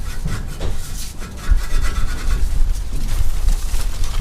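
Metal tailpipe rubbing and scraping as it is wiggled into a RAM 1500 muffler for factory dual exhaust, with irregular grinding scrapes and knocks, fairly close and continuous.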